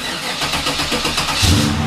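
An old car with a 4L60E automatic transmission cranks and catches, its engine running loud and close with a rough, uneven rumble that swells slightly near the end.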